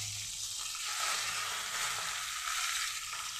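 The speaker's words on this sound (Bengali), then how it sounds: "এগুলি ভেজে নিচ্ছি।" Large pota fish pieces frying in hot oil in a Bengali kitchen, a steady, close, hissing sizzle with brief swells, as if the pieces are being moved or turned in the pan.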